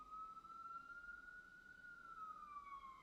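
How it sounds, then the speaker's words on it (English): A single emergency-vehicle siren wails faintly from outside, a steady drawn-out tone that holds and then slowly dips, distant and thin over low background hum. "Sorry about the sirens, guys."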